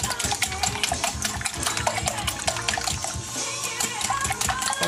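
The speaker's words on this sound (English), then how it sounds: "now I'm going to put the eggs in here. Alright, and I'm going to beat that up." Eggs being beaten by hand in a bowl for Yorkshire pudding batter, a steady busy run of clattering whisk or fork strokes against the bowl, close and fairly loud, with no talking.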